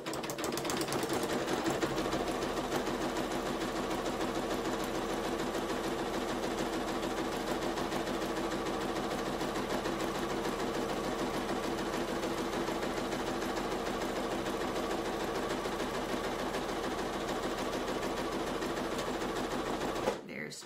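A sewing machine stitches continuously along a fabric edge, a steady rapid whirring hum close by that runs almost without pause, with a voice heard faintly at times.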